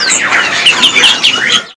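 Songbirds sing at a bird market stall selling cucak ijo and mozambik birds: a loud, dense stretch of bright chirping and warbling close by, continuous and heard alone without talk.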